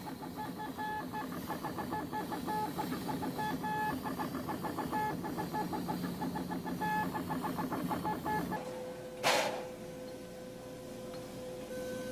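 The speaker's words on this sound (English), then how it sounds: "In the inking machine, the failed circuits are marked with a black dot." An inking machine marking failed circuits on silicon wafers runs with a fast, steady mechanical chatter of tiny repeated clicks, then stops abruptly with a single sharp clack and a lingering electrical hum.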